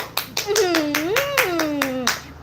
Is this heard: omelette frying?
no